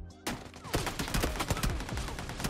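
Gunfire in the video game PUBG Lite, a close, dense fusillade of rapid shots with sharp repeated cracks running throughout.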